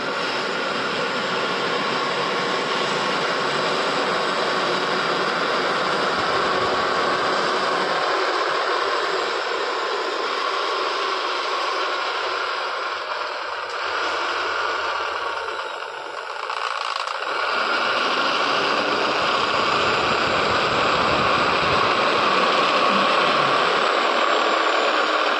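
A machine cutting house coat fabric in a garment factory runs as a loud, steady, broadband roar with a high whine, continuous throughout with only a brief dip.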